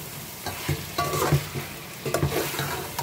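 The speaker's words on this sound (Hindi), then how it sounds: "अब अच्छी तरह से भुन गया है, देखिए इसमें तेल ऊपर आ गया" Potato keema fries in oil in a pan while being stirred, a soft crackling sizzle with intermittent scraping and clattering strokes up close.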